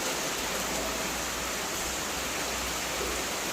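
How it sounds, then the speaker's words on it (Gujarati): Heavy rain falling at a house in Halol, a steady soft hiss of rainfall, even and fairly faint with no voices. "મસ્ત વરસાદ પડે છે ગાઈસ."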